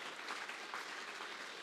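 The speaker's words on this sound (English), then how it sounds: "get up and give a round of applause for Femi Falana" Audience applause fills a hall at an investigative reporting award ceremony, steady dense clapping throughout, loud and continuous with no voices over it.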